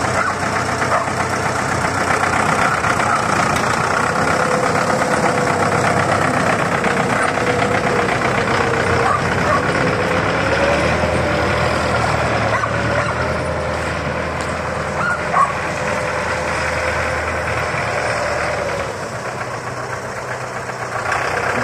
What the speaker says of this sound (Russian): Вот гидравлика, поднимаем такую.